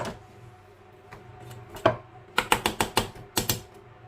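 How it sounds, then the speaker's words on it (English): Nuts are added to a raw vegan nut roast mix, producing a quick run of sharp, close clicks and taps after a quieter start, with a couple of isolated knocks. "I'm going to put in the rest of the nuts"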